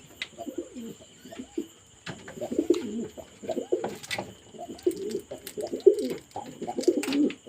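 Domestic pigeons coo in repeated low throaty bursts close by while being handled and fed medicine for feather growth, with small rustles between the calls.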